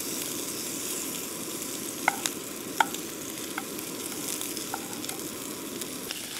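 Bacon frying in a pan over a campfire deep in the woods, a quiet, constant sizzle with a few sharp pops and crackles scattered through it.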